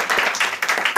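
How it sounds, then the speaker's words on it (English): A small audience at a student music academy program claps briefly for a young performer, a second of quick, fairly close handclaps. "So give her a round of applause."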